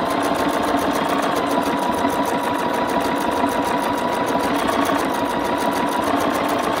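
A Bernina sewing machine stitches a Spanish hemstitch without a break, a dense, close mechanical whir that carries on for nearly seven seconds with slight swells in pace.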